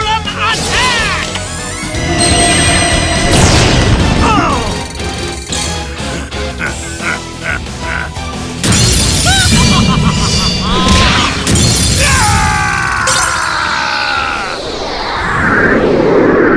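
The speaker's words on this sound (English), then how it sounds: "Ultimate Ancient Gear Golem attack!" An Ultimate Ancient Gear Golem attack animation in the Yu-Gi-Oh Duel Links video game bursts out in loud booms, crashes, whooshes and metallic impacts, a busy layered barrage of game effects with no voice over it.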